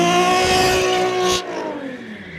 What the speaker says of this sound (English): Rev it up high and let the clutch out as fast as you can.